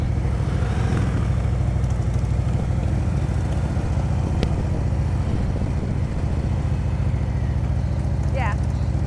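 During slow-riding practice, a motorcycle engine holds a steady, high-throttle rumble throughout, a constant low drone close by with a voice talking over it.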